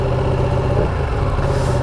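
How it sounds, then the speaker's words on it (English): A 2017 Ducati 959 Panigale motorcycle engine runs at low revs, giving a steady, loud, slightly uneven mechanical drone with no pauses. "Not particularly a fan of the sound of the engine in low revs."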